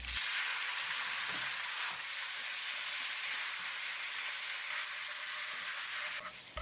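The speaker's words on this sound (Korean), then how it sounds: "팬에 식용유를 두르고 물기 뺀 당면을 넣어주세요" Glass noodles for japchae, drained of water, stir-fried in cooking oil in a pan give a steady, close, even sizzle with faint stirring scrapes throughout, no talking.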